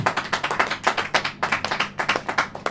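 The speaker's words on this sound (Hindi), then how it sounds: "ताली बजाओ भाई" An audience at a church sermon claps hands together in a brisk, steady rhythm, a tight run of sharp, closely spaced claps, loud and near, with no talk over it.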